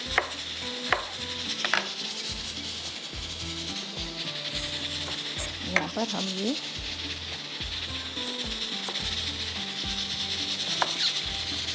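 Green chillies being chopped into small pieces with a knife on a board while cooking kali mash daal gosht, a series of faint, irregular taps and scrapes under a voice talking throughout.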